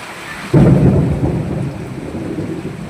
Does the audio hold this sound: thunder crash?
yes